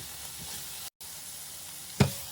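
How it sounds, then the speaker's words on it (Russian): Peppers, sausage and green peas stew in a covered frying pan, giving a quiet, steady sizzle with a short cut-out and one louder clatter near the end. "После отправляю в сковороду перец, колбасу, зеленый горошек, все мешаю и оставляю тушиться на 2-3 минуты под закрытой крышкой."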